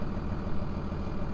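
A Dodge Cummins diesel truck with a 47RE-to-NV4500 transmission swap and its check-engine light on idles at a lowered speed, making a steady, close, low rumble with nothing else heard.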